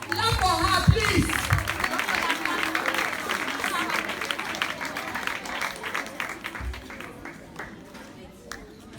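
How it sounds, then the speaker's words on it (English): Applause from an audience at a secondary school graduation ceremony, a steady wash of clapping from a crowd honoring a graduate, with a loud voice speaking over it near the start. "Clap for her, please."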